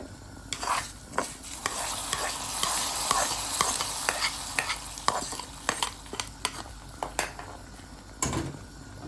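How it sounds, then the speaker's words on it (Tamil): Tempering is stirred into a boiling pot of Jaffna-style fish curry, giving a close bubbling sizzle under repeated sharp scrapes and knocks of a spoon against the pot, with no talking. "இங்கே பாருங்கள் நல்லா கொதி வந்துட்டுருக்கு இப்போ நாங்கள் இதோட அந்த தாளிச்சு வச்சதை சேர்த்துக்கலாம்"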